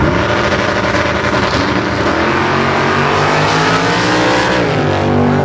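Two drag cars, a 1966 Chevy Nova and a 1980 Chevy Camaro, roar at full throttle down the strip, a loud continuous engine howl with rising pitch as they accelerate away.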